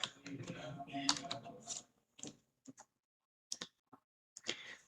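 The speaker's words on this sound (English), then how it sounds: "or just press Windows plus key on your keyboard" Keys pressed on a computer keyboard, a Windows key combination, giving a dense patter of clicks at first and then a few sparse, separate taps with silence between them.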